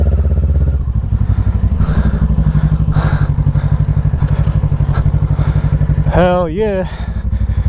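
Kawasaki Ninja 650 or Vulcan S motorcycle engine idling loud and close with a steady, throbbing pulse, briefly revved near the end, while riders talk over it.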